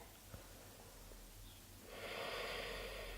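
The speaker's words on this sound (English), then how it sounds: "Breathing here." Audible breathing during a yoga practice: a quiet stretch, then a long, loud breathy exhale or inhale rushes in close to the microphone.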